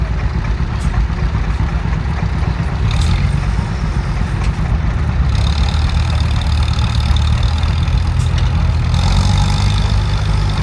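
A loud truck engine idles at a tractor pull show, a heavy, steady low rumble close by that runs unbroken throughout, with faint higher rattles and brief noises around it.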